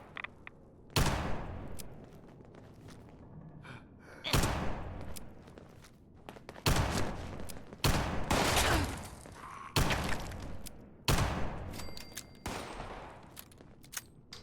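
Bursts of gunfire from the video game Fallout 76: several loud, sharp volleys every couple of seconds, each with a booming low tail, spaced by brief quieter gaps, with faint footsteps between.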